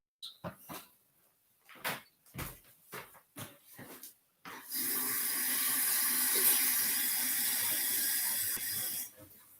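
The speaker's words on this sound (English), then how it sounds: "Let me wash my face." Tap water runs steadily into a sink during face washing, a continuous splashing rush that follows several sharp knocks and clatters, with no talking over it.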